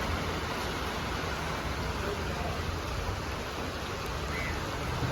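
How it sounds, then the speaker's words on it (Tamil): Steady rain falls on a coastal road in Kerala, an even, dense hiss that fills the whole stretch without pause, close and moderately loud. "மழை பெய்ய ஆரம்பிச்சிருச்சு"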